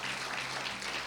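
Church congregation clapping together in praise during a Spanish-language sermon, a dense, steady wash of many hands filling the room without pause.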